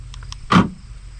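A truck tailgate lock actuator locking: a single short electric whir-clunk, close, over a low steady background hum.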